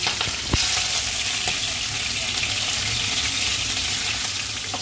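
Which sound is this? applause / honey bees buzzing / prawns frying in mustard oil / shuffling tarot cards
prawns frying in mustard oil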